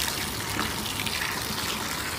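Water gushing steadily into a freshly dug planting hole in dry soil before corn seeds are sown, a continuous close pouring rush without pause.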